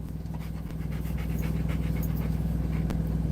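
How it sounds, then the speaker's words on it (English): A big old dog pants steadily up close in rapid rhythmic breaths, with no talk over it. "She is a big old dog."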